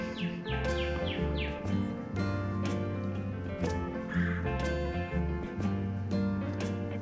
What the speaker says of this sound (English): I think I've heard about 4 or 5 different birds just in this spot.